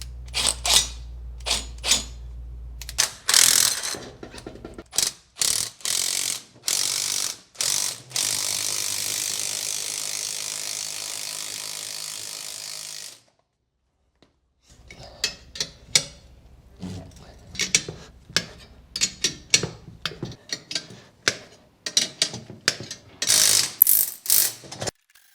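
A spring compressor ratchets on a car coil spring in bursts of sharp clicking strokes, close and irregular, with a quiet pause partway through.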